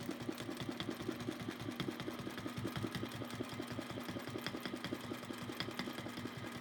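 Domestic sewing machine stitching with glide thread, a steady fast mechanical rattle of the needle running continuously at low volume, no talk.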